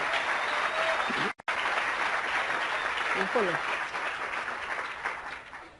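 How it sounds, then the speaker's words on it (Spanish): Convention audience applause, a loud, sustained wash of clapping that breaks off briefly, resumes, and fades near the end, with faint voices beneath. "Un aplauso para nuestro offline."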